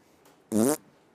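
A single fart sound effect played over a Discord voice chat during a gaming stream, short, loud and buzzy, about a quarter second long against near silence.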